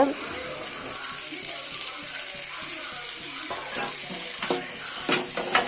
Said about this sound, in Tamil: தக்காளி போட்டு ஒரு கிண்டி கிண்டிக்கோங்க